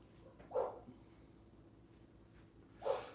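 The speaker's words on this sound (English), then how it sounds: "the dog's barking" Dog barking at a distance, two short faint barks a couple of seconds apart against a quiet outdoor background.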